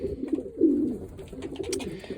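Sport racing pigeons coo softly in low, throaty bursts, a few calls overlapping close by, with faint rustling in the background.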